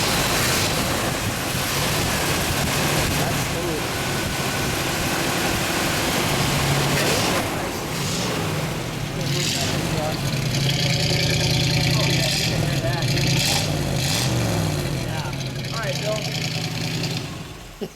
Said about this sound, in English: just so you can hear that car start